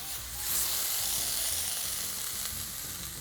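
Thin beef cuts for beer-marinated fajitas sizzle loudly on a very hot skillet, a steady, close, broadband hiss with no talking over it.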